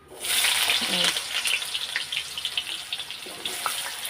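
Potatoes dropped a few at a time into hot oil burst into a loud, bright sizzle that settles into steady frying crackle, close by, with a faint voice underneath.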